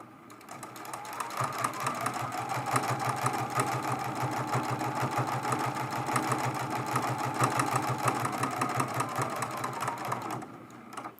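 A sewing machine runs steadily, stitching a quilt-as-you-go table runner made from fat quarters, its fast even needle rhythm loud and close for about ten seconds before stopping.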